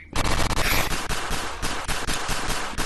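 Rapid, continuous gunfire fills a shooting range in the VR game Rec Room, loud and unbroken for nearly three seconds, with no speech over it.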